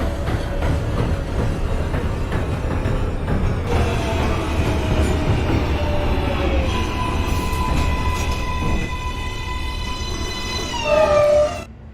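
An NYC Subway R143 J train runs in the OpenBVE simulator, a loud steady rumble of wheels and motors. Rising electric motor whine and tonal traction hum build toward a sharp high squeal at the end.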